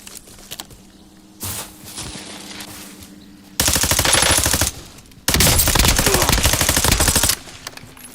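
Rapid automatic gunfire in a Call of Duty match, loud bursts of a second or two separated by quieter stretches of game ambience, with a few single shots.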